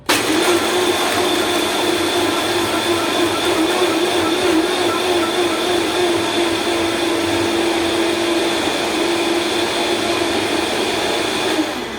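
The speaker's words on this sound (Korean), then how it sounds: "블렌더 뚜껑을 닫고요. 약 8초에서 10초간 갈아주도록 하겠습니다." Blender whirring steadily as it blends a pina colada of pineapple juice, mix and a scoop of crushed ice, a loud continuous motor drone with a sustained tone that runs evenly for about twelve seconds, no voices.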